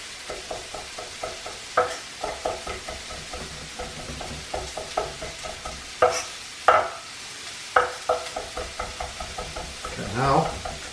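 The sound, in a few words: knife mincing garlic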